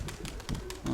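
Pigeons cooing around feeders in a loft, soft repeated low coos close by with faint background activity.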